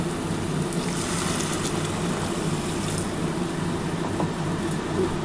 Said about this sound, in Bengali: এবার যে একটু গরম জল করে রেখেছিলাম সেই জলটা দিয়ে দিচ্ছি